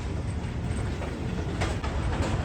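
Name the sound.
train arriving at Karachi Cantt railway station platform 2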